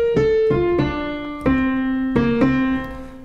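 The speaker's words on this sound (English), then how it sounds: "you can play this little piano riff" A piano plays a short riff, a handful of clear, separate notes struck one after another with ringing sustain, close and solo with no talking.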